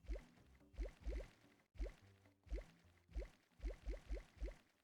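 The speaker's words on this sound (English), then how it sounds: "Oh, it has a water sound with it." Watery bubbling and sloshing tones from a manatee mount whistle in the Sun Haven video game, repeating in short rhythmic bursts with brief gaps, clear and fairly quiet, heard alone.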